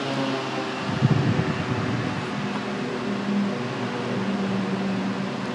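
A 16-inch 28W BLDC solar DC table fan runs steadily at low speed, giving off a soft, even whoosh of moving air with a low hum and no talking.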